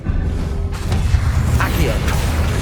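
A Confringo spell blast from Hogwarts Legacy gameplay, a loud continuous roar of explosive booms and whooshes with rumbling low thuds, dense and sustained with no clear pauses.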